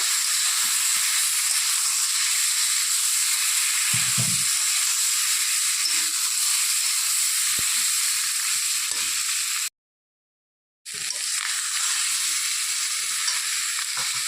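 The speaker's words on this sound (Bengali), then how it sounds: "এখন এর মধ্যে আমি মাছগুলো দিয়ে দিব আবার একটু নেড়ে চেড়ে দেবো" Stinging catfish pieces dropped into a pan of sautéed spices for a curry, giving a loud, steady hissing sizzle with occasional stirring scrapes that briefly cuts out before resuming.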